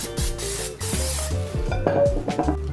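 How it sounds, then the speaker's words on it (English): Several short hissing bursts from an aerosol can of cooking spray coating a baking dish, close up, with a few soft knocks and rattles between them. "Give it a good spray."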